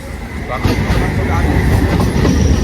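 A train rumbles past close by, loud and continuous, with rattling wheels and a metallic hiss over the roar.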